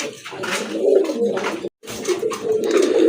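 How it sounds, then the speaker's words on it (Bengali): Pigeons cooing close by at a pigeon sale in repeated throaty phrases, with a brief pause midway; loud and clear. "আরেক জোড়া কবুতর, কালারফুল কবুতর, খুবই সুন্দর দুইটা কবুতর"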